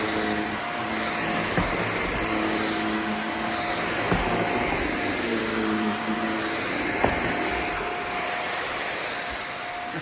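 A Shark vacuum cleaner running over a rug in a holiday lodge, a loud continuous motor roar with an airy rush and faint tonal whine, punctuated by occasional bumps as the head slides back and forth, with no talking.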